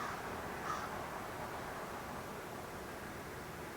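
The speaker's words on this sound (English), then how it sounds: "Is the crow bothering anyone else?" A crow caws outside behind a closed window, one faint call standing briefly above a steady hiss of background noise.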